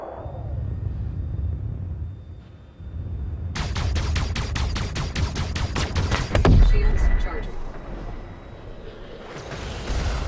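M4 and M5 ship weapons in Star Citizen firing in a rapid, evenly spaced burst of loud blasts over a deep rumble, followed by a heavy boom and continued low drone.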